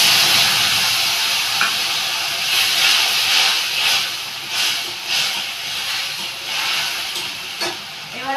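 A spice paste of garlic, ginger, green chilli and ground cumin sizzles in a hot pan, giving a loud continuous hiss with scattered pops and short bursts as it fries.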